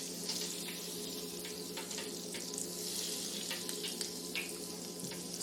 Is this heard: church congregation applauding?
no